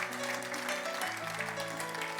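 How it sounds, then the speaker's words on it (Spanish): Church congregation clapping for Christ during a sermon, a steady wash of applause over sustained low organ or keyboard tones that shift midway, moderately loud and continuous throughout. "Dele ese fuerte aplauso a Cristo"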